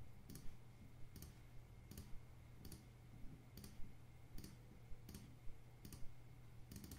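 A computer mouse clicking as a lasso selection is drawn in Photoshop, each click spaced about a second apart in a steady rhythm, quiet and close over a low electrical hum, with no talking.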